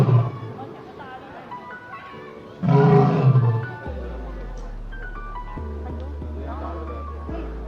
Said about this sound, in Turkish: Aslan nasıl ses çıkarıyor